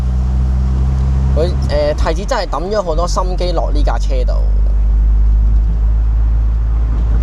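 A roughly 30-year-old Toyota MR2 sports car, kept near original, drives along with a steady low engine drone and road hum running beneath continuous close conversation from people inside.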